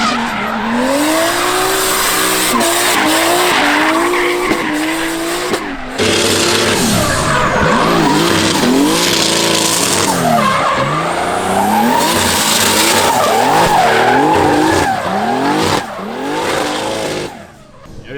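Drift cars at a drift championship in the USA squeal and skid their tires while engines rev hard. Loud, wavering screeches rise and fall as the cars pass nearby, with brief lulls between runs.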